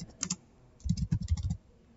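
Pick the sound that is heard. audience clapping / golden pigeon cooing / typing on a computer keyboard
typing on a computer keyboard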